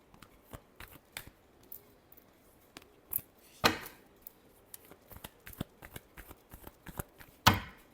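Tarot cards being shuffled by hand, soft dry riffling ticks scattered across the stretch with a couple of louder flicks, close and quiet, no voices.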